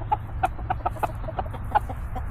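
A rooster on a backyard flock gives a run of short, close clucks in an uneven rhythm over a low steady rumble, with no talking.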